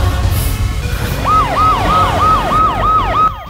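Ambulance siren wailing loudly in a repeating rising-and-falling pattern over a dense, rumbling traffic background, with no speech.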